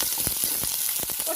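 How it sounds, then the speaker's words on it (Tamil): Hot oil hisses and crackles steadily as a bay leaf and onion go into the pan for a crab curry. Soft stirring thumps sit under the sizzle, and no one speaks. "எண்ணெய் காஞ்ச உடனே கறி மசாலா இருக்கிற பிரிஞ்சி இலை போட்டு கரைஞ்சி வச்ச வெங்காயத்தை அதில் போடணும்"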